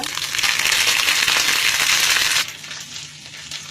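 Mustard seeds, dried red chilies and curry leaves crackle and sizzle loudly in hot oil for a tempering, a dense close spitting hiss that drops sharply to a quieter simmer partway through.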